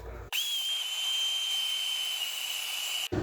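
A Vitamix blender blends watermelon, strawberries and filtered water, kicking in abruptly with a loud, steady high whine and rushing hiss, then cutting off sharply just before the end.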